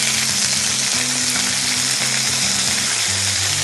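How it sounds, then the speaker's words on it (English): Lemon pepper chicken sears meat side down in a hot pan, a loud, constant sizzle running under a plucked musical melody. "I'm just gonna sear on the meat side."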